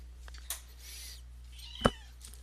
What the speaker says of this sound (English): Here's the cat, though.